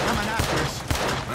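Gunfire in the video game Red Dead Redemption 2, a dense burst of overlapping shots and crackling that fills the whole moment, with a voice speaking faintly underneath.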